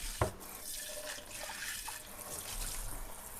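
Tap water runs steadily over basmati rice being washed in a kitchen, a quiet, continuous splashing hiss with one brief knock near the start and no speech.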